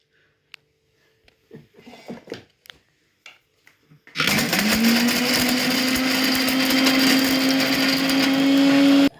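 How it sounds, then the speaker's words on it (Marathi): After some quiet handling noises, a mixer grinder starts up and runs loudly and steadily with a rising motor whine, grinding coarse crab shells. "ते मिक्सरला लावून घ्यायचे असे"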